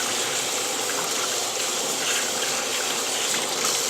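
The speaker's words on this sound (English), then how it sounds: "I'm going to rinse my hand off." Kitchen tap water runs steadily while hands are rinsed during cooking, a constant close splashing hiss that fills the whole stretch with no talk over it.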